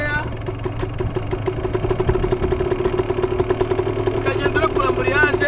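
A motorcycle engine idles with a steady low rumble and rapid rhythmic putter, close and continuous, while a person speaks over it throughout.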